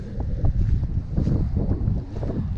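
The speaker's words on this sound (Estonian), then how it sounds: "veidi küll tuuline" Gusty wind beside a glacier and glacial river in Iceland buffets the microphone in loud, uneven low rumbles that swell and ease across the short stretch, with no talking.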